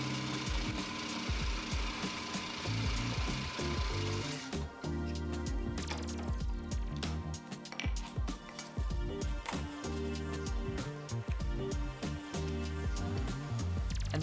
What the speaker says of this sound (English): drill through the whole thing to get perfectly positioned holes across the entire stack